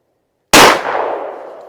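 A single sharp 9mm shot from a Glock 19 pistol fired over a chronograph, a loud instant crack after silence followed by a long decaying reverberant tail.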